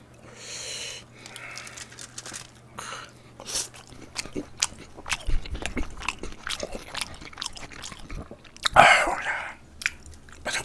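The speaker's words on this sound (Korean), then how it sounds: "김치전은 눅눅해졌나? 바삭바삭해야 되는데" Close crunchy bites and chewing of a crispy kimchi pancake, with irregular crackling mouth sounds and sniffs, recorded near the mic in a quiet room.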